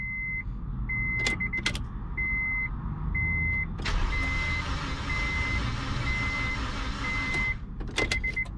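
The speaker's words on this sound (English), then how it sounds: "Sounds like our timing belt might have snapped." Intermittent electronic chimes beep, then the engine of a 1997–2001 Honda CR-V with a snapped timing belt cranks loudly for several seconds without catching before stopping, followed by a couple of clicks.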